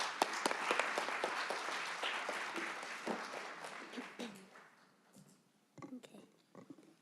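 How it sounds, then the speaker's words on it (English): Audience applause for an undergraduate student panel at a tech ethics symposium, a burst of many hands clapping that thins out and fades after a few seconds, leaving scattered claps and murmuring. "please give a big round of applause for our undergraduate student panel"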